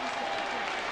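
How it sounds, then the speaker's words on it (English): A boxing arena crowd applauds as fighter Maurice Harris gets back up, a dense steady wash of clapping and crowd noise that stays loud and continuous through the short burst. "The applause is for Maurice Harris getting up."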